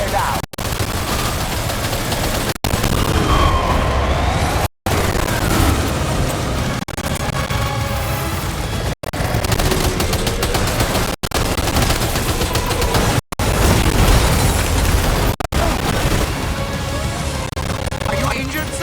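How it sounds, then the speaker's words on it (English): Gunfire and explosions in the video game Death Stranding 2: On The Beach, loud dense bursts of shots with sharp cracks and booms repeating throughout, close and continuous over a rumbling background. "Opening fire now."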